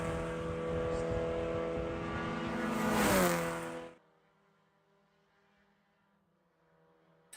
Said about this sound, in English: in the background, you can see the cars whistling through the banking